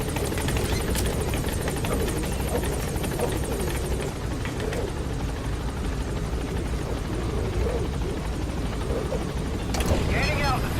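Helicopter in the video game Metal Gear Solid V climbing, its steady rotor and engine drone running continuously at close range beneath voices talking.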